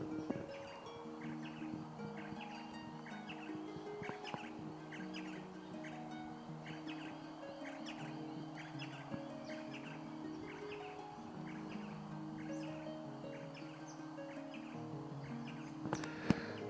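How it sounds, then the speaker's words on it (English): Several birds chirp and tweet outdoors in repeated short calls, faint and fairly distant over a soft steady background. "I'll just pause for a minute so we can listen to these birds"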